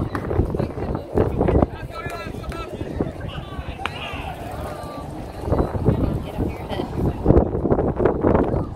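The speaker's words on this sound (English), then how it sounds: "the wind's really going crazy." Strong gusty wind from a passing weather front in Oklahoma buffets the microphone outdoors in loud rumbling bursts, with people talking intermittently over the roar.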